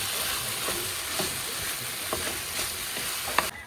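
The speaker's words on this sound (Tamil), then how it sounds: "லேட்டராக கொஞ்சோன்னு வெங்காயத்தை போட்டு கிண்டி விட்டுருவேன் ஃப்ரெண்ட்ஸ்" Onions are stirred into a pan of frying brinjal and drumstick kootu, giving a steady sizzle with soft spoon scrapes and a small clink near the end.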